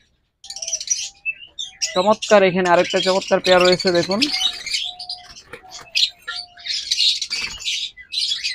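A pair of green opaline pet birds, one light olive, chirps and squawks in close, busy bursts while someone talks over them throughout.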